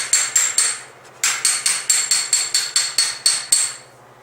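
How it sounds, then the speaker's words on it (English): Rhythmic ringing metallic blows of a hammer against a dolly on a Ford Fairlane's sheet metal panel, about a dozen strikes in two bursts with a short pause between, close and loud. "hammer dolly this"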